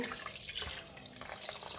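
Cold water runs from a tap in a short, soft, steady splashing stream, added to rice for cooking, fairly faint and close.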